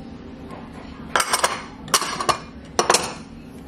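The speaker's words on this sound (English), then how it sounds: "And you want to mix up those ingredients together." Ranch marinade made with black pepper and salt being mixed, heard as three short bursts of metallic clinking and scraping of a utensil against a dish, close by over a faint hum.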